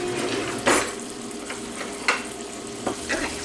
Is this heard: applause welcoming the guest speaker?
no